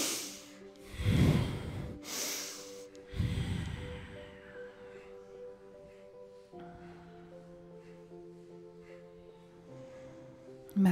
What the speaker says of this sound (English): Breathe through the nose and listen to the sound of your own deep breath.